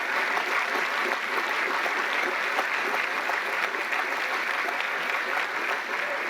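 A large audience at a political speech breaks into sustained applause, a dense, even patter of many hands heard at a distance, with no talking over it.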